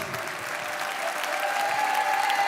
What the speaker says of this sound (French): S'il vous plaît, applaudissez beaucoup plus fort.